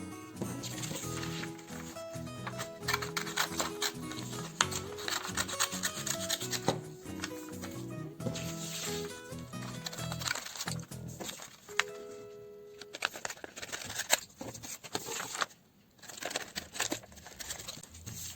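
Scissors cut homemade sticker paper sheets into pieces: close, crisp snipping and rubbing paper rasps come in bursts with short pauses, then sheets crinkle and rustle.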